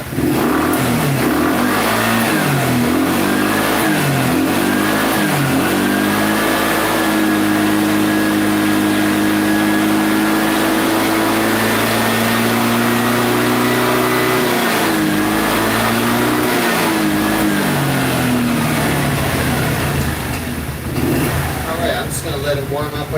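A scooter engine warming up on fresh oil runs steadily and loudly close by, its pitch wavering with occasional revs throughout, while a person talks over it.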